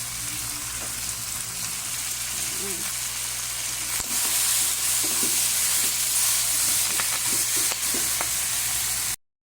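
Pork pata with white beans bubbles in a pot, a steady hissing, crackling simmer with scattered soft pops and stirring clinks, continuous and close until it cuts off abruptly near the end.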